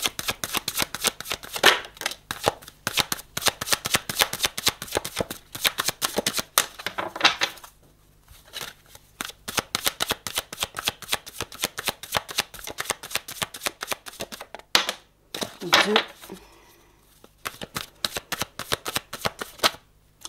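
A deck of tarot cards shuffled close up in rapid, crisp riffling bursts that repeat steadily, with a couple of brief pauses between runs.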